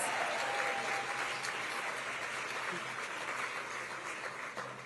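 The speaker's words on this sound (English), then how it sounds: "Let's give them all a big round of applause" A gala audience in San Francisco claps steadily for the union crews and stagehands, a continuous wash of applause lasting about five seconds and tapering a little at the close.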